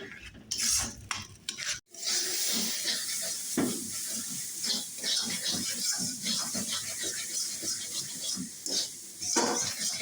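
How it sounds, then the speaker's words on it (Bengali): Chopped green chilies and spice paste frying in a pan, with continuous sizzling and frequent scraping stirs of a utensil against the pan, close and fairly loud throughout. "একদম অনেক পর্যন্ত দাঁড়িয়ে শুকিয়ে নিতে হবে ভালোভাবে ভাজা ভাজা করে নিতে হবে"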